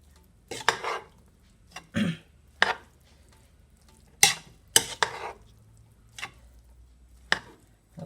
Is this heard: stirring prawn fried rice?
yes